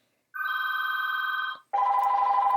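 Telephone ringing on a call forwarded through Google Voice: two loud, pulsing electronic ring bursts in quick succession, the first higher-pitched, with no voices.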